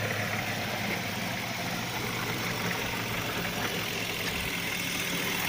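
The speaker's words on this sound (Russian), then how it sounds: "Вескомута трещит." BMW X5 engine idling with a worn secondhand viscous fan coupling, a steady broadband mechanical drone with a dense rattling texture, constant and close throughout, no voices.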